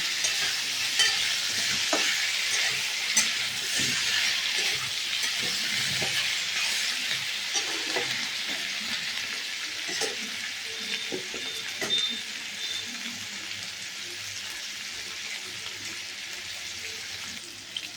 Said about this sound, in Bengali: ওলটাকে একটু ভাজা ভাজা করে নিলাম কিছুক্ষণ।